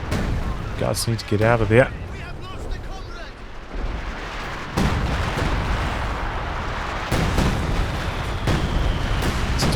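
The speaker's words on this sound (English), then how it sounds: "Got the sector artillery coming in now" Sector artillery barrage in Company of Heroes 2, a 3v3 battle on the Middle of the Rhine map: dense rolling booms and blasts fill the scene with a continuous heavy rumble, while a voice speaks briefly near the start.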